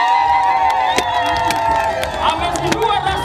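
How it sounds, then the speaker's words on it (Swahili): A crowd at a CHADEMA political rally cheers and ululates continuously, a dense mix of high trilling voices and shouts, loud and close, with sharp bursts standing out. "tupige vigelegele na tushangilie"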